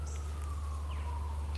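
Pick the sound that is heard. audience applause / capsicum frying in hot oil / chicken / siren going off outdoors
siren going off outdoors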